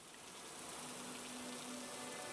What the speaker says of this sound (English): everything falls silent except for the rain, thunder, and wind outside